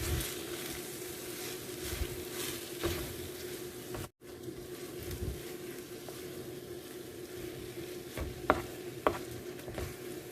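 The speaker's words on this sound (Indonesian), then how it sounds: "Ini diaduk-aduk ya, gista dan bahan lainnya." Cake batter with yeast and other ingredients being stirred in a bowl, a soft repetitive scraping and swishing with occasional clicks, one brief dropout midway, steady and close.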